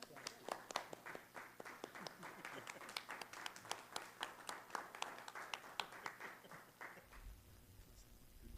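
Scattered applause from a small council meeting audience honoring a staff member, sparse claps tapering after about seven seconds into low room noise.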